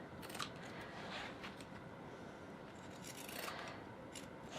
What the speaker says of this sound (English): I also like to just go around the curved areas with the pinking shears